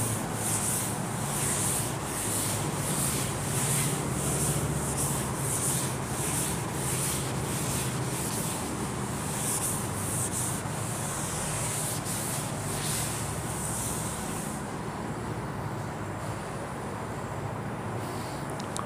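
A blackboard is rubbed clean during an algebra lecture, a long continuous scrubbing and swishing with rhythmic strokes, close and fairly quiet, easing off toward the end.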